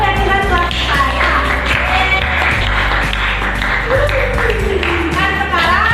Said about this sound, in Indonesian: kita berikan tepuk tangan keyakinan kelas saya.